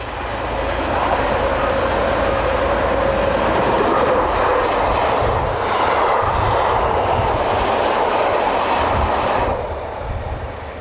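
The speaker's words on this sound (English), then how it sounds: "This is Boer on the line from Holstebro to Vemb, just an hour after the train left Herning." Train running on the line from Holstebro to Vemb in Denmark, a loud, close engine roar with rumbling wheels building in the first second and holding steady before easing near the end.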